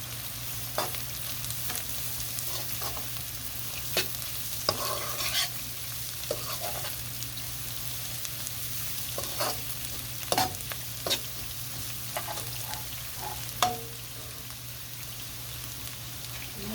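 Onion and garlic frying in a pan beside salmon, a soft steady sizzle with scattered clicks and light stirring taps, fairly quiet and alone.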